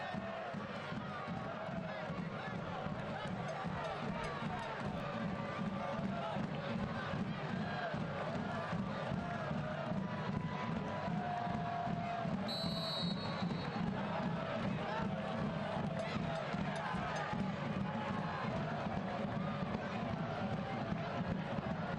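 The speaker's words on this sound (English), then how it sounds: "The Richmond crowd alive and well." Home crowd at a Richmond Kickers versus Chattanooga Red Wolves professional soccer match roaring and cheering in a steady, dense wash of voices that fills the stadium for the whole stretch, with no single voice standing out.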